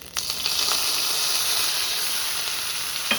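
Ground onion paste hits hot oil already holding fennel seeds and curry leaves for a Tamil kurma, giving a loud, steady, close sizzle that carries on unbroken with no talking.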